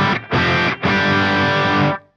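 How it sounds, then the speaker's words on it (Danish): An electric guitar played through a distortion pedalboard preset set to a crunch tone, three loud sustained chords with short gaps between them, the last ringing on before cutting off, with no talking. "min crunch-lyd, min helt almindelige"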